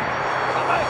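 An RC model airplane flying, its motor giving a steady buzzing drone at fairly close range throughout the brief moment.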